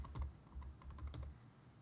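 Computer keyboard keys tapped to type a file name, a quick string of soft, close clicks over a faint low hum, with no talk.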